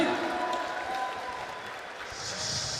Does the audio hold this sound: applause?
yes